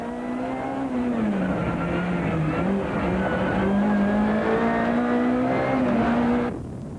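A Mitsubishi Conquest rally car speeds through a valley section of a 1994 mountain rally stage, its engine droning loudly and shifting pitch for several seconds before cutting off abruptly near the end.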